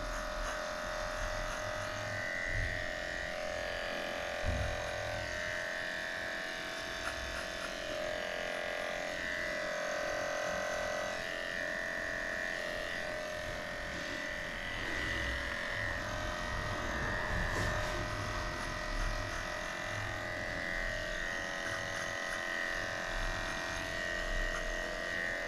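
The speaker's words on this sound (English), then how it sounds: "And shave the ear again." Electric clippers shaving a dog's ear during grooming, a steady close buzzing drone lasting throughout with slight shifts in pitch as the blade moves, no talking.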